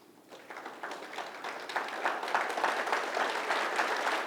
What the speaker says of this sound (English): can you start clapping for me?